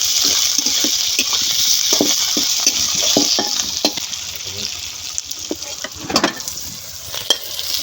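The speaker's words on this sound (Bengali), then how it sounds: "ধনের পাতাগুলো আমি বেশি একটা ভাজবো না শুধু একটু তেলের পরে একটু নাড়াচাড়া দিয়ে নেব" Coriander leaves stirred briefly in hot oil with onion, garlic and dried chilli for a spicy taki fish bharta, giving a steady sizzle with repeated scraping stirs and light utensil clicks throughout, close and fairly loud.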